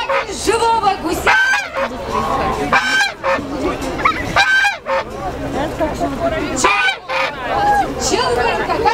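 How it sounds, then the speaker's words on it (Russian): Loud geese honk repeatedly in bursts over a murmuring crowd at a goose fair, with voices chattering in the background. "Живого гуся!"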